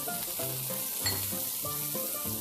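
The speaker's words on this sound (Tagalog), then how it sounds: "Babalik na rin lang natin ng ating burger from time to time para yung both side ay maluto" A burger steak patty sizzles and fries in a pan, a constant quiet crackle broken by occasional scraping and stirring clatters, heard alone without speech.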